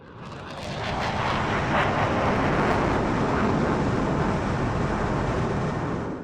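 An early Royal Danish Air Force F-16 fighter jet flying a display at an air show, a loud sustained roar that swells in and holds steady before easing off at the end.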